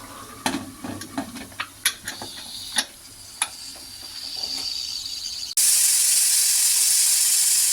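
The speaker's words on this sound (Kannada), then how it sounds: "ಒಂದು ವಿಷಲ್ ಆಗಿದೆ ಆವಿಯೆಲ್ಲ ಬಿಟ್ಟಿದೆ" Pressure cooker cooking rice for chicken mandi, first with scattered metallic clicks and rattles under a building hiss, then a loud sustained steam whistle release at close range, no voices.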